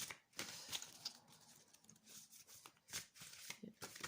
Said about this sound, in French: Allez, on va voir avec les grandes cartes. Elles sont moins faciles à mélanger.